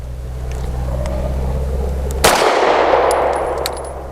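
Sig M17 X Change pistol firing training match ammo: one sharp, loud gunshot crack midway with a ringing clang as it decays, over a steady low hum, no talk.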